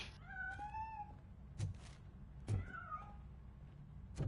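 A cat in a video game lets out two drawn-out, wavering meows separated by a pause, alongside a few soft thuds over a low, quiet background rumble.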